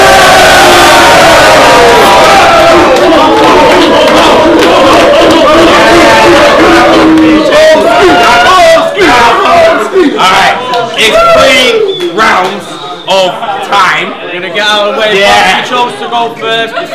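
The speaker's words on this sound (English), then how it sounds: "Make some fucking noise for Hulk" Crowd at a fight event cheering, whooping and shouting in a loud, sustained roar that swells and wavers, with individual yells standing out near the end.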